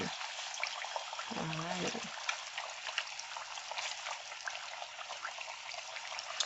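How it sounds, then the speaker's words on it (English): Tilapia fillet frying in hot oil for fried tilapia, a steady crackling sizzle that continues from start to finish, with a brief spoken word near the start over it. "we're just gonna fry this until it's crispy for us"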